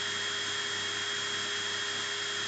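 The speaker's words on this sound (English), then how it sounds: "The sound of the drill." An electric drill runs steadily and continuously, a constant whining motor hum with no pauses, fairly close and alone without talk.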